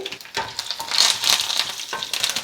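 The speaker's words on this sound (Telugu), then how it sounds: "పోపు వేగిపోయింది కదా" A tempering of dried red chillies, curry leaves and asafoetida frying in hot oil, a loud, close, crackling sizzle with spoon stirring running throughout.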